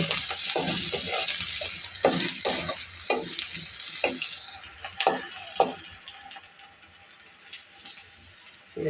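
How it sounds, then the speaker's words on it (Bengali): Malabar spinach seeds and potato fry in a pan, with a steady hiss and sizzle broken by repeated scraping stirs and clatters that fade toward a quieter sizzle at the end. "আলু দিয়ে পুঁই শাকের বিচি ভাজি।"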